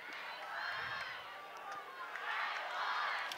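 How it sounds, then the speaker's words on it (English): A big, loud crowd and student section roar and cheer at a high school football game in Osage, Seneca visiting, a broad swelling wash of voices rising and falling with a commentator talking over it. "Nice, loud student section. Nice big crowd here in Osage."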